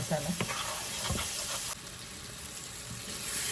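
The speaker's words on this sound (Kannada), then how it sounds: "ಇದಕ್ಕೆ ಮಸಾಲೆ ಒಳ್ಳೆ ಫ್ರೈ ಆಗಲಿ. ಫ್ರೈ ಆಗಬೇಕು" Masala spices with chili powder sizzle and fry in a pan with oil, a steady soft crackling hiss with occasional stirring scrapes, quiet and close.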